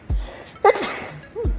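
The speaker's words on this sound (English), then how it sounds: "Oh, I gotta sneeze." A single sharp human sneeze with a quick gasping intake before it, close to the microphone, followed by a brief breathy sound, indoors at a nail table.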